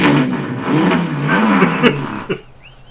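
A Pontiac Trans Am engine in a video game hums and revs at a steady mid pitch, rising and falling a few times before cutting off abruptly, leaving near silence.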